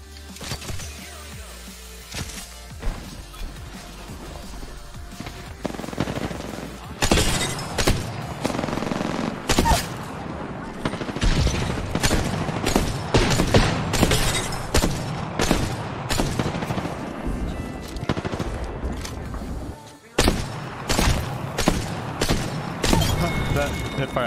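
Rapid bursts of weapon fire in Apex Legends, dense fusillades and single shots cracking loudly across the clip with a brief pause near the end, while a player talks over the action.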